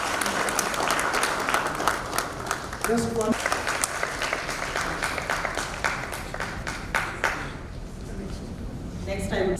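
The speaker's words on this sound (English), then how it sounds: "Big round of applause for sir." Audience applause for a doctor at a maternal and newborn health medical conference, a steady crowd clapping that carries on for several seconds, with a voice talking over it and a short spoken word near the end.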